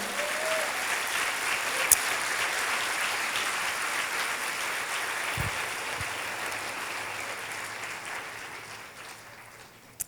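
A church congregation applauding during a worship service, dense sustained clapping that slowly fades toward the end, with a few faint knocks.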